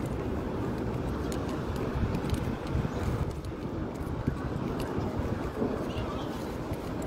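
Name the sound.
wind blowing outdoors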